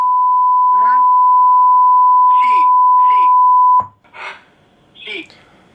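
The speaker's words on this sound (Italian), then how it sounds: "Dica sì per rispondere dopo il beep." An automated message from a Bari penitentiary phone line gives a long, steady, loud beep that cuts off abruptly. Voices talk over the tone and continue after it ends.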